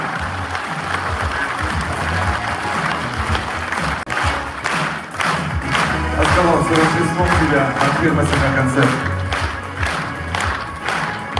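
A concert audience at a Christmas show claps in a dense, swelling round of applause, with crowd noise throughout and a voice speaking over the start.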